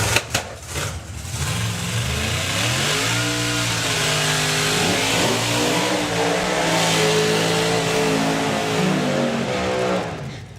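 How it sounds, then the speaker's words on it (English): Drag racing cars doing burnouts at the Summer Nationals, engines revving hard and steadily in a loud, sustained roar that rises and falls in pitch over about ten seconds, with no talk. "Two very, very good burnouts indeed."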